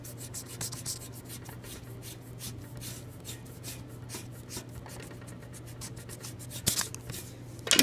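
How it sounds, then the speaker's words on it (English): Pencil marks rubbed off paper with an eraser during a DIY Polaroid-style craft, a steady close scratchy scrubbing in quick repeated strokes over a low hum, louder toward the end. "So just erase these."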